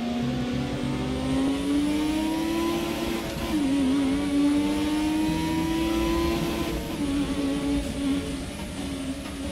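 A turbocharged Formula 1 car in the F1 2017 racing game drones loudly as its engine pitch climbs steadily. It dips briefly at a gear change, climbs again, then shifts once more, with no speech over it.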